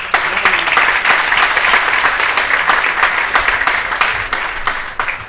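A studio audience at a televised Eid comic poetry recital breaks into loud, sustained applause, a dense wash of many hands clapping continuously for several seconds without letting up.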